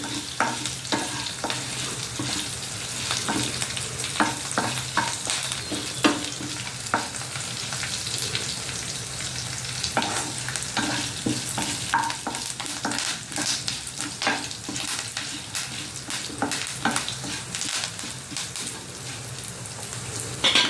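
Ingredients for a Morinda leaf chutney frying steadily in a pan, a dense continuous crackle and sizzle close up with scattered spatters throughout, no voices.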